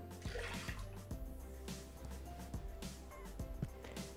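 Milk and water poured into a Thermomix mixing bowl, a faint, continuous liquid pour with soft splashing and a few light knocks, heard quietly in a kitchen with no talk.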